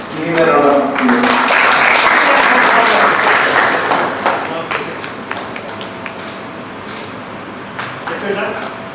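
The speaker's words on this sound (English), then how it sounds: "Give him a round of applause." Audience applause after a lecture on Muslim networks, as a memento is presented to the professor: loud, dense clapping filling the room, gradually thinning into scattered claps near the end, with voices talking over it.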